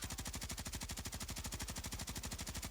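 Suppressed full-auto fire from a Bruen MK9 with a VT Spitfire suppressor in Warzone, a fast, perfectly even stream of muffled shots running loud and unbroken for the whole stretch.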